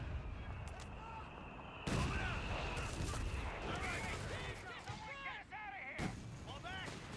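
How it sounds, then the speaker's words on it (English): Mortar rounds firing in Company of Heroes 3 battle, with booming thuds and gunfire mixed into a busy game soundscape, a loud impact near two seconds and another near six, with a voice talking underneath. "I'm going to just bank on my mortar, maybe getting in a couple of cheapy rounds"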